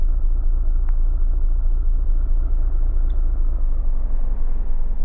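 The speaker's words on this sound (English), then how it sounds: "a lot of games seem to use this car engine sound when they're driving the car" Engine of a car in the driving video game Driving Home, a steady, loud low rumble that drones on without change, with no voices over it.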